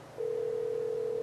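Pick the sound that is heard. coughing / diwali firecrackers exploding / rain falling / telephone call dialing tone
telephone call dialing tone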